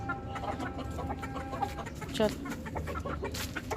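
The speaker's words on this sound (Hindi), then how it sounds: "ये ऊपर चढ़ के बैठ गया यहाँ, क्योंकि ये वाला मुर्गा इसको तंग कर रहा है।" Roosters and hens clucking close by in a farmyard, with one rooster harassing another, a steady run of clucks and short calls while a voice speaks briefly.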